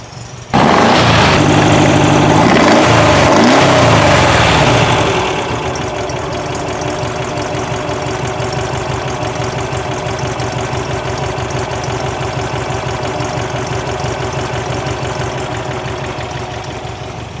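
A 1964 Volkswagen with an upright engine starts with a loud burst, then settles into a steady, close, rhythmic air-cooled idle, with no voices.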